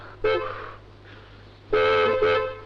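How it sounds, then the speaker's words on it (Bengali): Two honks from a car horn, a shorter toot then a longer blast, moderately loud against a low steady hum. "দেখো না কে হর্ন বাজাচ্ছে"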